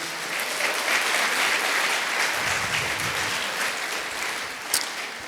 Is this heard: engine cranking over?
no